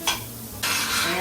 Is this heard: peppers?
yes